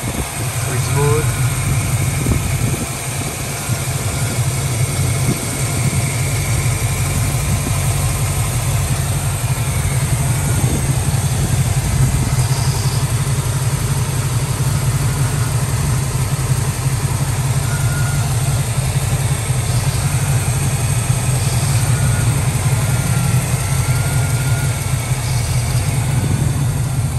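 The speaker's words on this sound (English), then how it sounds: "Listen to the engine." A 1967 Chevrolet Camaro SS 350 convertible engine idling, a smooth steady low rumble heard close and continuous throughout, with a person talking over it at times.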